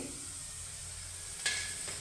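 Soft, steady sizzling of curry leaves dropped into hot oil, with a sharper crackling burst near the end.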